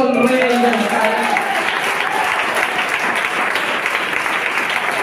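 Sustained applause from a church congregation during a sermon, dense and steady throughout with some overlapping voices and a few tonal sounds at the start.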